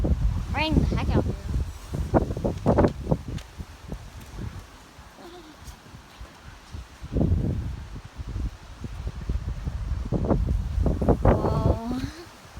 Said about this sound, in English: Mom, there was wind literally everywhere.